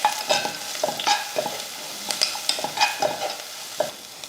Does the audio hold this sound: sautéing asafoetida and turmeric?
yes